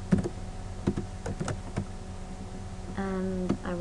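A handful of faint, irregular keystroke clicks tap on a computer keyboard in a quiet room. The taps are spaced unevenly, and a steady humming tone joins near the end.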